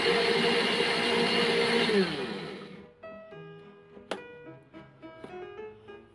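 A blender purees plain dragon fruit with a loud, steady whirring drone for about two seconds before winding down, followed by light clinks and handling noises.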